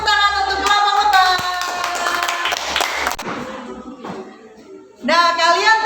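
Children in a classroom clap for the bee group, the clapping mixed with loud, high, sustained children's voices that cut out midway and swell back at the end.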